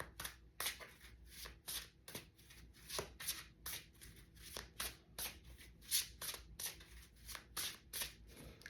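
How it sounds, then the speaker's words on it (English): Tarot cards being shuffled by hand close up, a run of quick riffling bursts repeating in a steady rhythm with short pauses between. "Let's pull 5 cards."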